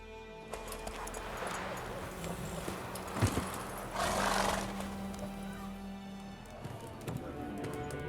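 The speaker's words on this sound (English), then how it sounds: "What is going on over there with your horse, Vesemir?" Horses in The Witcher 3 whinny and shift about, with a loud neigh near the middle and scattered hoof clops over a steady ambient bed. A brief voice is heard.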